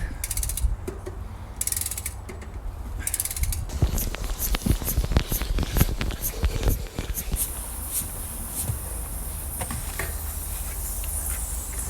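A pump pushes air into a tubeless bike tire during a flat repair, with sealant fluid inside, giving close, loud rhythmic mechanical clicks and creaks over a steady hiss.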